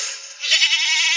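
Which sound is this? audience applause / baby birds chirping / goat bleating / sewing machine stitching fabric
goat bleating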